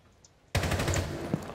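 Automatic gunfire in Rainbow Six Siege breaks out suddenly after near silence, a loud, rapid burst of shots that carries on to the end.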